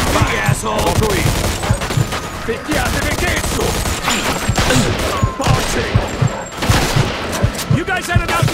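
Dense gunfire in a Mafia 2 shootout: rapid overlapping shots and bursts crack continuously at close range, loud throughout, with shouted character voices mixed among the shots.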